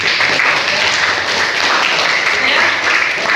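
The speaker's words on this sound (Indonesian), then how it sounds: "Ya, tepuk tangan lagi" Audience in a classroom or seminar setting applauding again, loud and dense clapping from many people sustained evenly, with some voices mixed into the crowd noise.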